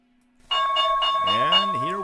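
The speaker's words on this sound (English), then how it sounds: "And here we got the opening bell of the market" Stock market opening bell, a bright sustained ringing tone that starts abruptly after a faint hum and rings on loudly with a wavering, sliding overtone toward the end.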